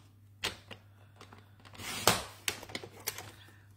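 Paper trimmer slicing a one-inch strip from a 3.5-inch piece of card stock, a series of sharp close clicks and a sliding swish of the blade, over a faint steady hum.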